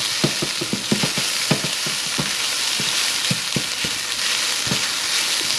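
Rice for chicken fried rice stir-fries with mushroom soy sauce in a hot pan, a loud constant sizzle punctuated by sharp scrapes and knocks from the spatula at an uneven pace.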